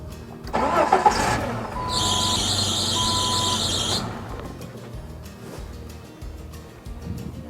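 An engine cranks and catches after a couple of sharp clicks, then runs on with a steady idle while a high warbling chime sounds for about two seconds before fading, leaving a rough settled rumble.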